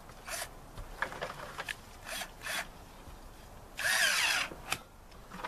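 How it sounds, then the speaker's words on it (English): Power drill tightening a stainless steel band clamp on a crawlspace sump pump, heard as several short, faint whirring bursts with one longer, stronger run near the end, quiet overall and without speech. "Now we're ready to tighten that up with our drill."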